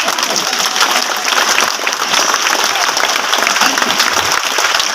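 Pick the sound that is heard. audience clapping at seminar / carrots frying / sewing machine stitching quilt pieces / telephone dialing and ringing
audience clapping at seminar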